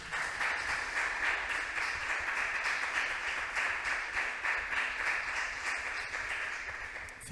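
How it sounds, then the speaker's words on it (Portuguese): A church congregation claps for the Lord in a steady, even wash of hands, moderately distant and sustained without pause throughout. "Aplauda ao Senhor."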